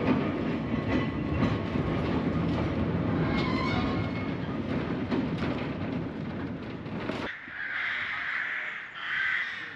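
An electric tram of the Manx Electric Railway rumbles and clatters along the track over the Glenroy Viaduct, loud and steady, then the noise drops to a softer hum with a high whine.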